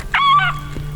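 A man imitates an eagle call with his voice, giving two short, shrill, wavering cries that sound close and fairly loud in a quiet room.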